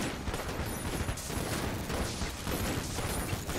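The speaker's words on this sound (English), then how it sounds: "Look at all the explosions creating pools of poison." Rapid, overlapping bursts of explosions and gunfire in the video game Enter the Gungeon, with the blasts leaving pools of poison; the crackling barrage is loud and continuous, pulsing slightly without a pause.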